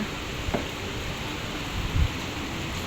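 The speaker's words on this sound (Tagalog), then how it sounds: "Talaga pong nalakas po talaga ang hangin at ulan." Heavy typhoon rain pours in a steady, dense hiss, with a couple of faint thumps rising briefly above it.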